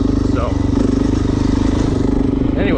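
A Suzuki DRZ400S motorcycle engine drones with a steady, rapid throb at a desert flat-track area, loud and close throughout, with a brief higher whine near the end.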